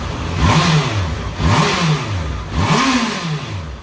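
Honda CB650R on its stock exhaust, revved three times in succession, each rev a loud rising and falling engine swell heard up close with no talk.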